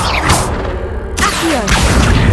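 A Confringo blasting spell goes off in Hogwarts Legacy as loud, close whooshing bursts that break into crashing impacts, one after another over about two seconds.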